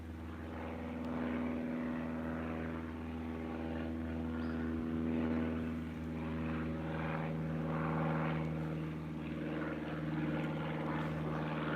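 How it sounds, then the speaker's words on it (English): A float plane's propeller engine drones steadily overhead near a lake, a continuous moderately loud hum with a strong low tone that holds through the whole stretch without fading. "He's a float plane."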